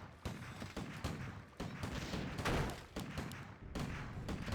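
Three mortar teams attack in Warcraft III, with repeated thudding impacts and explosive bursts mixed with dense battle noise and game sound effects throughout.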